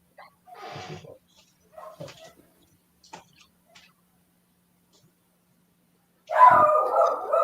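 Dogs barking in short scattered bursts, a few distant woofs spaced apart in a quiet room, then a louder, closer cluster of barks near the end.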